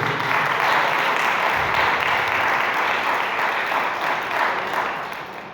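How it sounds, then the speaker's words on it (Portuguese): A church congregation at a doctrine service breaks into sustained applause, a loud, dense wash of clapping that holds steady for several seconds before easing slightly at the end. "Palmas ao Senhor"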